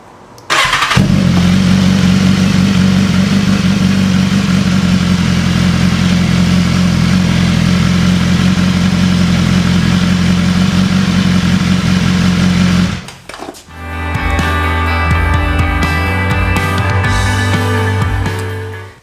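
A BMW S1000RR sport bike fitted with replacement LED headlights fires up and settles into a loud, steady idle, with a strong low hum held for about twelve seconds before a brief dip and a rougher, buzzing idle continuing.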